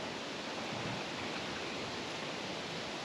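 Head gasket repair liquid pours steadily into a car radiator, a continuous close rushing hiss that holds even throughout with no talk.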